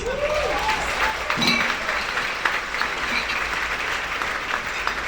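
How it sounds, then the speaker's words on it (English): An audience at a fundraising celebration gala applauds, a steady full wash of clapping with some cheering, heard with a brief voice near the start. "Give yourselves a huge round of applause."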